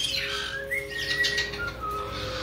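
A pet bird chirps and tweets with thin, high, wavering calls over a steady hum, close by and fairly soft, continuing without a break.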